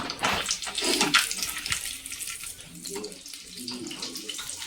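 Water runs from a tap in a steady splashing stream, loudest at first and then settling into a softer trickle, close by.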